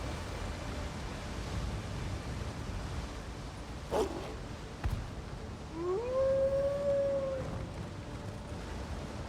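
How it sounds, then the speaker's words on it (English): A single wolf-like howl rises and holds for about two seconds against a faint, noisy background, with a couple of brief soft knocks before it and no voices. "Making the wolves howl in unison."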